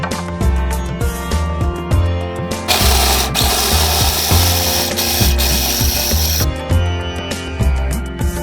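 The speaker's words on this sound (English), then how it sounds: "In a food processor, grind tomatoes, onions, green chilies, garlic," A food processor grinds tomatoes, onions, green chilies, garlic and ginger for dal tadka, giving a loud, steady motor whir with rhythmic chopping pulses and a harsher, louder stretch in the middle.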